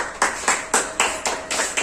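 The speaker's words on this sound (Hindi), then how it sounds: "तो आइए जोरदार ताली के साथ हम दिनेश सर का अभिनंदन करेंगे" A small school gathering claps in welcome for a guest, giving sharp, rhythmic bursts of applause about every quarter second, close and fairly loud, with no voices.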